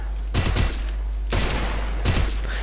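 Rapid gunfire from the Free Fire mobile shooting game, three short bursts of quick shots spaced about a second apart, loud over a constant low hum and background game noise.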